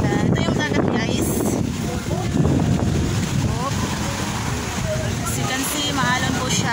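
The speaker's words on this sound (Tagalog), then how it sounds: "Maalon po siya. Maalon po yung dagat guys." Rough sea surf at Caysubic beach resort churns steadily beneath heavy wind buffeting, while people talk and call out over the noise.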